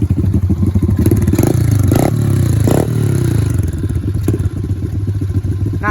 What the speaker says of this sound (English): We're gonna rev them both up a little bit so you can hear what they sound like.